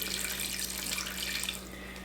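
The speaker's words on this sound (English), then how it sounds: "I just cover it with water." Tap water running steadily into a soup pot over raw chicken, a close, even splashing flow that eases slightly near the end, with no talking.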